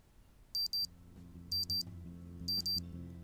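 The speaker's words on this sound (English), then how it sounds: "My watch beeps, indicating it is now 20 p.m." A wristwatch alarm beeps in three evenly spaced pairs of short, high electronic chirps, clear over a low steady background hum.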